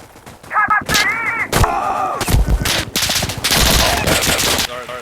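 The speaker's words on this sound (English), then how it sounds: "An MG is shooting." Machine gun fire in the video game Insurgency Sandstorm, loud close bursts of rapid shots separated by short gaps, with rumbling tails between volleys.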